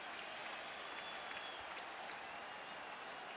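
A baseball crowd at Shea Stadium, New York, Mets against the Braves, applauds and cheers in a steady, distant wash of noise throughout.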